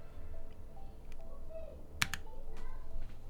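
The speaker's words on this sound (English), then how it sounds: "all you have to do is press Y on the keyboard" A single sharp key press on a computer keyboard during motherboard setup after a new CPU install, a brief near click with a second tap right after, over steady low room hum.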